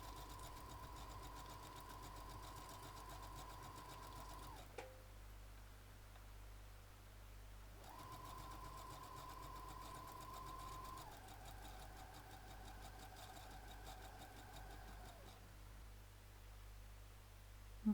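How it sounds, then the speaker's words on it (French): Sewing machine stitching and gathering ribbon for a junk journal, running in two long bursts with a steady whirring hum and a brief pause between, close and alone without talk. "c'est de pousser le ruban en fait sous le pied de la machine à coudre en faisant attention de ne pas se faire piquer les doigts"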